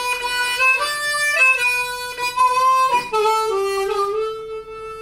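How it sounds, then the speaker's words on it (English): Solo harmonica plays the single-note melody of a song, clear sustained reedy notes moving stepwise in a slow phrase for about five seconds, close and loud with no voices. "so you are playing precisely that single note of the melody"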